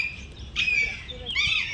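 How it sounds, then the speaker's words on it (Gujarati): Loud, harsh squawks from a large parrot at Surat Safari Park, two raspy calls close by with a short gap between them, over a low rumbling background. "જો સૌથી મોટો પોપટ આપણા દુનિયાનો"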